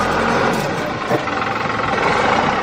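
A tractor engine idling, a steady loud low rumble and vibration throughout, close by, with no talk.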